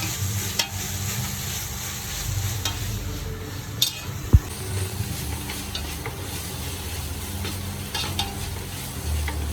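Crushed green chilli, ginger and garlic sizzling with onions in hot oil for a Hyderabadi chicken biryani, a steady close hiss with occasional stirring clinks and one sharp knock of the spoon against the pot.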